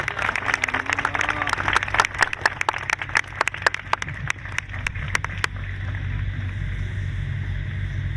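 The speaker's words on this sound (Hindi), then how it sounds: "तालियां बजाएं, धन्यवाद है" Applause from a congregation at a Christian church meeting in Dongri, Odisha, a burst of sharp, distinct claps for about five seconds that then stops, leaving a low background hum.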